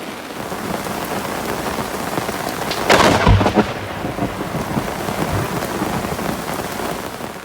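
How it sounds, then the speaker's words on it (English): Steady rain falls during a summer storm at a lakeside fishing spot, a dense continuous hiss, with a sudden loud close thunder crack about three seconds in that rumbles briefly before the rain carries on. "We've got a bit of rain coming back into the region."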